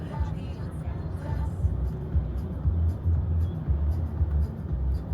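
A car drives along a road in Japan, its low engine hum and tyre rumble steady throughout, with faint rising engine tones early on and light road noise.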